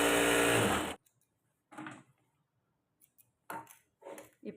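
A sewing machine stitches canvas for a padded princess-cut blouse: one loud, dense whirring run of about a second, then short quieter bursts of stitching separated by pauses.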